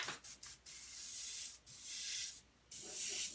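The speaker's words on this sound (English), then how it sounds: "Testing over here on my pad to make sure my brush is spraying properly before I spray my horse." Airbrush spraying paint onto a test pad before painting a liver chestnut model horse, giving a close, steady airy hiss broken by a few short bursts at the start and a brief pause near the end.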